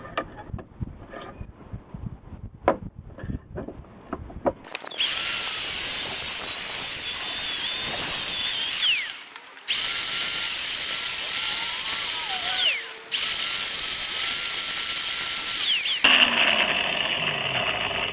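A power tool cuts away half of a welding magnet for a magnetic position holder. A few light handling clicks come first, then a loud, continuous cutting whine takes over, dropping out briefly twice before resuming.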